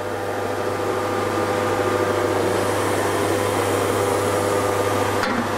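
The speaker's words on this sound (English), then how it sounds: "Driven by this motor." A steady electric motor hum drives a Kearney & Trecker universal horizontal flute mill, a constant machine drone with a low tonal whine, close and unbroken throughout, with a brief click near the end.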